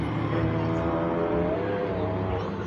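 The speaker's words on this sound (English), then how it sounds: "But I have a motorcycle and a loud truck going by" A motorcycle and a loud truck pass by at night near a river, making a steady engine roar that stays at even loudness across a short stretch.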